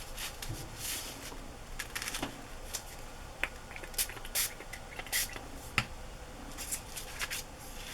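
Short bursts of vintage photo colour spray hiss onto a craft journal, a dozen or so quick puffs spaced irregularly with faint handling clicks between them.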